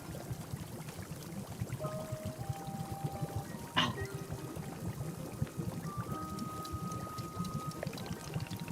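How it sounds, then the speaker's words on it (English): Tea pouring into a cup in the video game Wanderstop, a soft continuous trickle of liquid under a low ambient bed, with a brief sharp clink midway and faint musical tones. "Then pull the rope and you will see here in order to pour the tea in the cup."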